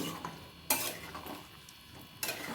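Onion pieces tipped into a pan of jackfruit and potato curry and stirred, with soft scraping and clinking of a utensil against the pot and two sharper clattering bursts, no talking.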